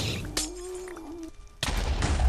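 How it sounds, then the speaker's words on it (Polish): An explosion in a video game bursts loudly, with a sharp blast, a lingering tonal hum, then a second heavy rumbling burst near the end. "Wow. Wybuch."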